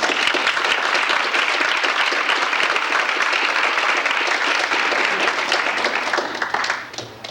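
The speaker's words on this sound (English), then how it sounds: "the kids deserve a big round of applause for not giving up" A banquet crowd gives the soccer players a big round of applause, thick continuous clapping that holds steady and loud, then thins out and fades near the end.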